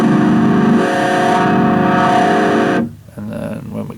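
A BYOC parametric overdrive pedal, a clone of the Pearl OD-05, plays a sustained distorted guitar tone at full boost. The tone holds steadily for nearly three seconds, then drops sharply into a thinner, quieter sound.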